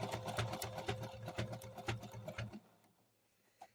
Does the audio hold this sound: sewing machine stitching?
yes